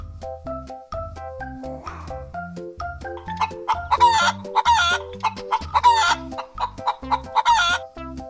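A hen clucks in a rapid series of short, bright calls over steady background music, with the clucks clustering in the second half.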